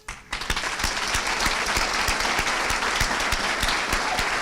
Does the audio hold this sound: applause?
yes